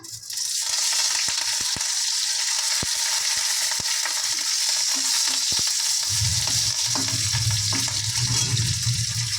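Curry leaves drop into hot oil for dal, bursting into a loud, sudden sizzle that roars on steadily close by, with a few sharp crackles early on.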